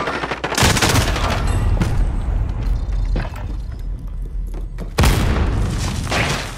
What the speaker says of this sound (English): I fired a rocket at you!